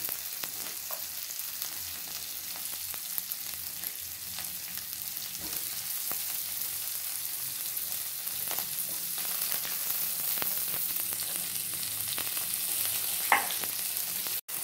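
Chopped tomato sizzles and fries in a pan of well-cooked spice paste for a vegetarian kohlrabi curry, a steady close hiss with occasional stirring scrapes and no talking.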